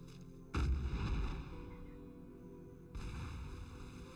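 Heavy cannon fire from a Khan in Black Desert Online, a loud booming burst with rumbling low end that decays over about a second, followed later by a second sustained roar.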